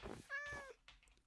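Minecraft cats meow in a village, a few short rising-falling cries that sit close and clear, with a soft breathy purr-like tail fading toward the end.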